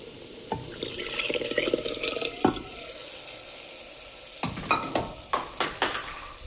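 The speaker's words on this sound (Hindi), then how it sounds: "अब ये डलेगा दाल मखनी जो मैंने घोट के रखी है" Dal makhani tipped into hot spiced oil in a pan, followed by sizzling, stirring and wet sloshing, with a run of scrapes and thuds from a spoon against the pan toward the end.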